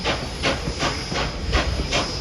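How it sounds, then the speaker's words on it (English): NKP 765, a steam locomotive on an autumn excursion run, chugs hard with pounding wheels, giving five loud, evenly spaced steam exhaust blasts over a continuous hiss and low rumble. "Look at that shot of her chopping hard with those wheels pounding."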